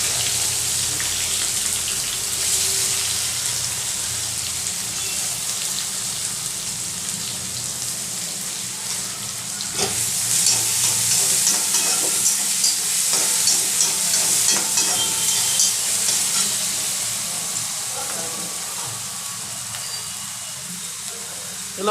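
Finely chopped onion fries in a pan with cumin, a dense, continuous sizzle that swells louder midway, heard up close with occasional stirring and no talking.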